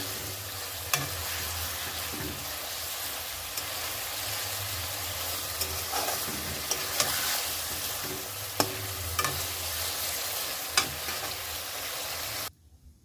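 Fish chorchori fries in a pan with a steady, dense sizzle while a spoon stirs it, scraping and knocking against the pan every second or two, until the sound cuts off abruptly.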